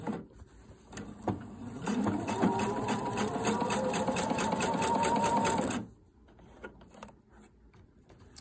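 Sewing machine stitching an invisible zipper whirs in one steady, close burst of about four seconds, then stops, leaving faint handling sounds and little talk.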